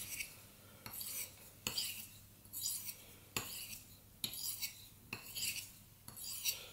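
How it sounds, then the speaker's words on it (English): A knife blade is drawn back and forth across a rough-grit sharpening stone, producing a regular series of gritty scraping strokes, each a short rasping swish, close up and clear with no talking. "with my roughest grit stone, I like to do 20 strokes back and forth like this"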